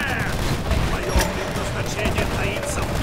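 Gunfire from a boss shooting explosive rounds during the final boss fight in Rise of the Tomb Raider, a dense continuous fusillade with a sharp, louder bang near the middle over game noise.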